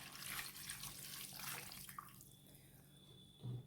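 Coconut milk from one cup of coconut poured into a clay pot of fish mango curry, a soft, continuous liquid pour that fades out after a few seconds, faint and close.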